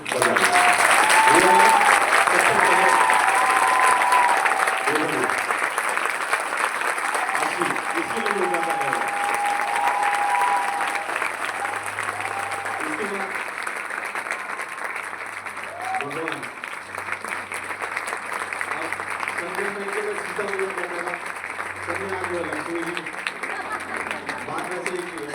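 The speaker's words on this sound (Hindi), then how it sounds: "ना उनके लिए जोरदार तालियां बजाएं।" Audience at a Modicare stage event applauds loudly and steadily, and a voice talks over the clapping at times.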